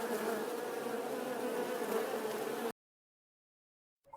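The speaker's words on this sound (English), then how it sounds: "Bee," A bee buzzes in a steady, close drone for almost three seconds, then stops abruptly, leaving silence.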